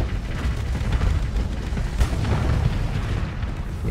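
Ship guns fire in a space battle in Starsector, a dense, rumbling barrage of booms and thuds that rolls on without a break, fairly loud and close.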